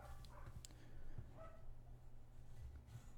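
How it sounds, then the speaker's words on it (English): A pet dog indoors gives a few faint, scattered barks and yips against a quiet room background, sounding somewhat distant rather than close. "Oh my god, my dog."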